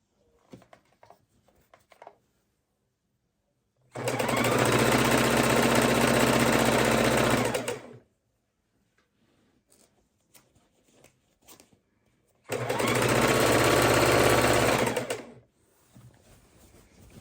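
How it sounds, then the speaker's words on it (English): A sewing machine stitches jelly roll quilt strips together in two steady, loud whirring bursts of about four and three seconds, with quiet fabric handling between and after. "we will sew these two strips together"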